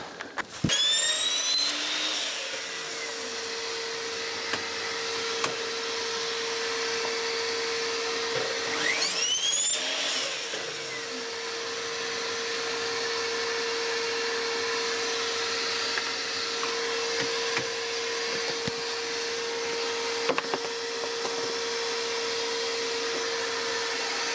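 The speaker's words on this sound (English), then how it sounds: "I'm going to bevel my saw or compound cut my saw over to the right hand side" Mitre saw compound-cutting coving at a 45-degree bevel, a loud steady motor whine running throughout with two sharper spin-up surges near the start and around the ten-second mark, no voices.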